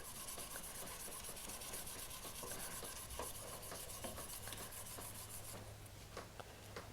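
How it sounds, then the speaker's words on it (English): Steady rubbing rasp of 400 grit sandpaper worked back and forth over a wood surface, continuous and close, with no talking. "So I'm done with 400. Sand it sideways just a little bit."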